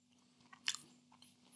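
Chewing on the crunchy crust of a stonebaked four cheese pizza, close and quiet, with one sharp crunchy bite in the middle and softer chews around it.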